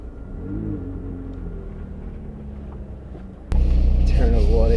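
A McLaren 675LT engine rumbles low, then abruptly roars into a loud rev that climbs in pitch, close by, after a stretch of quieter engine noise.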